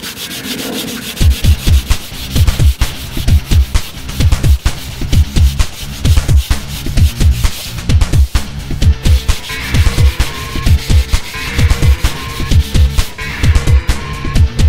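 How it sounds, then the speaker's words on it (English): Hand sanding a car paint scratch with 240 grit sandpaper on a block, a loud, steady back-and-forth rasping in quick repeated strokes, close up, with no talking. "use my 240 grit sandpaper and my block and just try and sand out this scratch"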